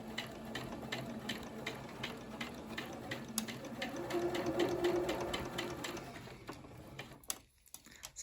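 A sewing machine stitches a shirt collar, pivoting at the needle around the collar points, with a quiet, even run of rapid needle clicks that briefly stops near the end.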